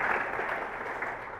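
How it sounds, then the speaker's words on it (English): Conference audience at a PHP developer talk clapping, a short steady wash of applause at moderate distance, alone without speech. "Come on, keep clapping."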